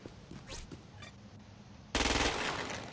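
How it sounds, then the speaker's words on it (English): Assault rifle fire in Crackdown 2 bursts out loudly at the end, a rapid sustained string of shots aimed at a freak, after a few quieter game sounds. "Use it to kill the freak without assisted targeting."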